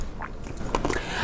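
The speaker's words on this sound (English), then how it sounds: "I'll bet this microphone is picking up nothing but crunching" Someone bites and chews chocolate-covered English toffee close to the microphone, giving a short burst of several crisp, brittle crunches in quick succession.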